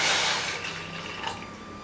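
Water is poured from a cup into a pot holding a cup of jaggery, a soft continuous splashing that starts strongest and then trails into a quieter liquid trickle.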